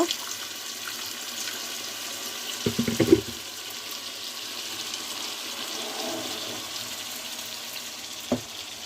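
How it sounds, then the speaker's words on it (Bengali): Hot water is poured into a pan of pangas fish curry, giving a short splashing, bubbling burst lasting about half a second, then a low steady cooking hiss with one faint clink near the end. "তো আমি সামান্য একটু গরম পানি দিয়ে দিব"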